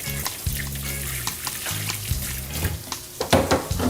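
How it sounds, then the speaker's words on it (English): Hands are washed under a running kitchen tap, a steady trickle of water with splashy bursts as the hands move through the stream, fairly close and without talk. "Let me wash my hand really quick."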